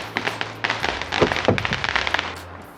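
A firework goes off, giving a dense burst of sharp crackling pops and snaps that swells in the middle and then thins out, loud and fairly close.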